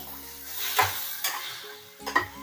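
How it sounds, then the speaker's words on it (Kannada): Cloves and cinnamon dropped into a hot pan for a village-style country chicken sambar, a soft sizzle with a few scraping stirs and clinks of the spoon, close up and without talk. "ನೋಡಿ ಈಗ ಚೆನ್ನಾಗಿ ಫ್ರೈ ಆಗಿದೆ ಈಗ ಲವಂಗ ಮತ್ತೆ ಚಕ್ಕೆ ಹಾಕೋತಾ ಇದ್ದೀನಿ"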